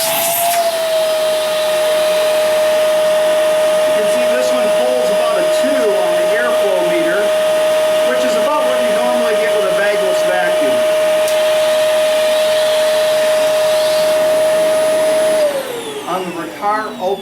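Shark Rotator Never Loses Suction vacuum cleaner running on a performance airflow meter, a loud steady motor whine holding one pitch for about fifteen seconds before winding down, with faint talk underneath.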